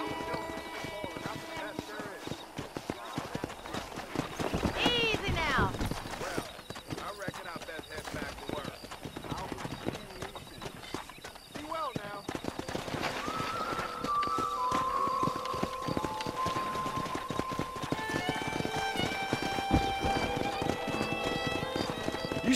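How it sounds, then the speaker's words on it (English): Rapid hoofbeats of galloping horses clatter close by in the video game Red Dead Redemption with a horse whinnying, while voices talk over them and music plays in the background. "Let's see if we can't wrangle some horses."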